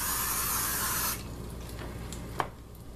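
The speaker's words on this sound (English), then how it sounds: "I spray it really good because I like that butter flavor" A butter-flavored cooking spray hisses onto bread in one steady burst lasting about a second, close and loud, then stops, leaving a quiet room with a light tap afterward.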